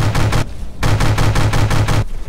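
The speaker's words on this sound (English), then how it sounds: "Stop shooting my ship." Bursts of rapid gunfire pound the player's ship in From the Depths, a missile ironclad campaign, in two loud sustained volleys with a short lull between.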